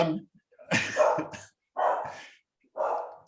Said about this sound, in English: someone's knocking on the door and the dog's barking